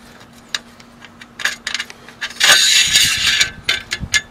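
A bolt pushed through a solar panel roof mount and an XRS bracket slid into place, heard as close metallic clicks, ticks and scraping in scattered bursts, with a longer grinding rattle in the middle.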